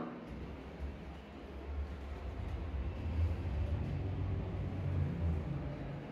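A steady low mechanical rumble and hum of a shopping-centre lift moving upward, holding fairly constant throughout.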